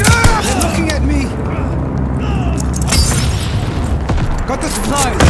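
Explosions from an air-dropped bombing run in the video game Call of Duty Vanguard rumble as repeated deep booms under scattered gunfire, with a voice calling out over the loud, continuous battle din.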